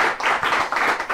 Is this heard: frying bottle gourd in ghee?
no